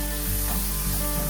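Chopped medium tomato drops into hot frying masala in a Kerala home kitchen, a continuous loud sizzle with soft stirring scrapes, no voices.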